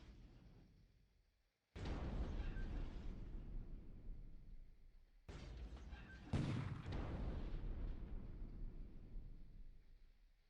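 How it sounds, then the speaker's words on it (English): Cruiser 6-inch naval guns firing on a submarine in a Pacific naval war game: two long, loud rumbling blasts of sustained gunfire with a sharper boom midway through the second, and no talking. "Cruiser guns are hitting this."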